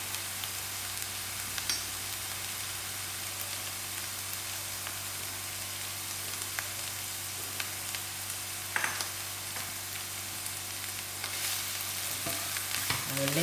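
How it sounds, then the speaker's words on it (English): Onions, curry leaves and green chilies frying in a pan give a steady, even sizzle with faint crackles throughout, close by and without talk, swelling slightly louder near the end. "I add in my curry leaf to fry with and my green chilies"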